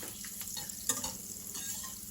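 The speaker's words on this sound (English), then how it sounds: "I'm gonna use a whisk for this, but you can use a wooden spoon." Butter and flour being whisked in a pan for a sauce: a faint, close sizzle with light scraping stir strokes, quiet throughout.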